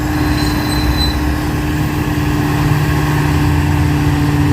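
A truck engine labouring on a steep hill road, a loud steady drone with a constant low hum that runs unbroken from start to finish.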